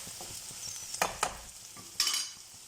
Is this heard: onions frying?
yes